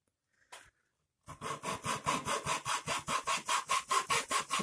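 A handsaw cuts wood to make a loudspeaker bass port: one brief knock, then a quick regular run of close rasping back-and-forth strokes.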